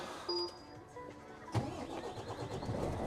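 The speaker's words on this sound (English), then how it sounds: "So foot on the brake here and we'll start her up." Renault T520 truck engine cranking and catching, a sharp start followed by a low, rough idle heard from inside the cab at moderate volume.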